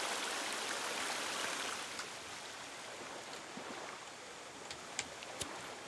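Flowing stream water in The Forest video game, a steady broadband rush that runs throughout, slightly softer after the first couple of seconds, with a few small splashy ticks near the end.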